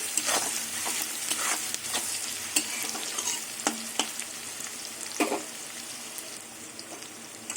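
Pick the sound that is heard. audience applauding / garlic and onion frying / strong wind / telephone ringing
garlic and onion frying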